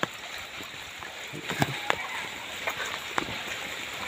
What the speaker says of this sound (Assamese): চাওক বৰষুণ পৰি আছে, এই পানী গৈ আছে, পাহাৰীয়া পানী।